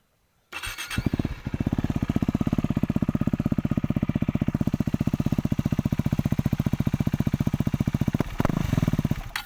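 A KTM Duke 390 motorcycle with an aftermarket exhaust pipe starts up after a moment of silence and settles into a loud, close, rapid throbbing idle, with a couple of brief throttle blips near the end.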